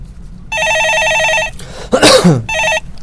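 A telephone rings for a call-in stock market radio show, giving two electronic trill bursts with a rustle or breath between them and a third shorter burst after, loud and close.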